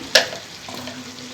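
Chana dal lightly fries in a pan, a soft hiss with a sharp clink of a utensil at the start, then a quieter steady sizzle close by.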